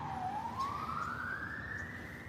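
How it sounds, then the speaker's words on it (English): An ambulance siren sweeps steadily upward in a long rising wail, moderately loud over street background noise on the main street of a small Maryland town near a quarry and cement works. "Oh, there was the ambulance."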